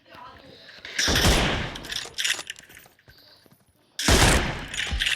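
Gunshots in a shooting game crack out in loud bursts, a rapid volley early on and another sharp burst near the end, with a voice talking briefly between them.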